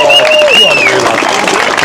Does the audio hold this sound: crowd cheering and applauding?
yes